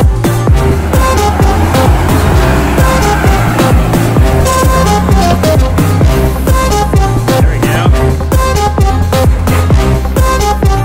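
Car engine revving hard while stuck in sticky mud, a loud, close, continuous roar with rising and falling pitch and rhythmic surges through the whole stretch, with no talk over it.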